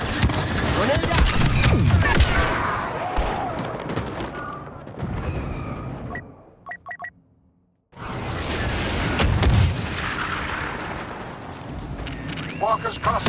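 Grenade blast during a battle on Hoth in Star Wars Battlefront II, heavy booming bursts and rumbling gunfire, a short near-silent gap, then another loud, sustained explosive roar with chaotic combat noise.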